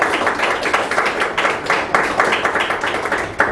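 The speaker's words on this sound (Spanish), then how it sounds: "un aplauso para los compañeros" An audience applauds presenters at the close of a seminar session, a brief burst of dense, steady clapping from many hands in a room.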